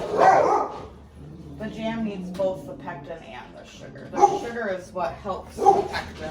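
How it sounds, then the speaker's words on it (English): Dogs bark in the background, intermittent bursts at middling distance, under close conversation during a home strawberry jam canning session. "Sorry about the dogs in the background."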